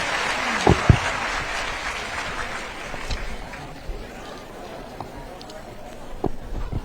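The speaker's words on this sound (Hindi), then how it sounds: "आप सब जोरदार तालियों से अभिनंदन कीजिए माननीय" A crowd claps to welcome the chief minister at a Raksha Bandhan ceremony honouring anganwadi workers, a steady, moderately loud wash of applause with a few sharper claps near the start.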